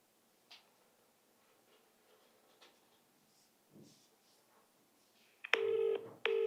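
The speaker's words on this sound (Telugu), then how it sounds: "ఒకసారి బాబు మోహన్ గారికి కాల్ చేద్దాము, మరి లిఫ్ట్ చేస్తారో లేదో" Two short electronic keypad tones sound near the end as a phone number is dialed to reach an actor, following several seconds of faint ticks and quiet clicks.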